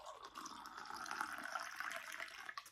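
Water pours steadily into a bowl in a close, continuous, gurgling stream lasting a few seconds, quiet and alone.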